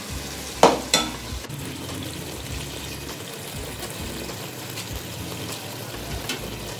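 Ginger, garlic, salt, turmeric and red chili masala frying in a pan for baghara baingan, a sharp splattering hiss at first settling into a steady soft sizzle with a few stirring clinks.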